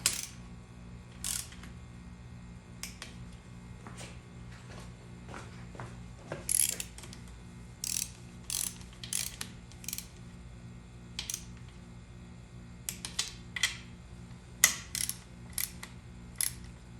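Metallic ratcheting and clicking from nuts being tightened with hand tools during final assembly of a Ford 4R100 transmission, arriving in short irregular bursts over a steady low hum, close and fairly quiet.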